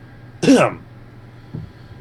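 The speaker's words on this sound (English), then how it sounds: "What's with these coughs, man?" A single sharp cough bursts out near the microphone at a card game tournament, followed by a fainter second throat sound in an otherwise quiet room.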